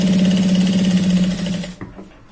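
A sewing machine stitches a shirt's shoulder seam in one fast, steady, close run that stops abruptly, leaving a brief faint clack and near silence.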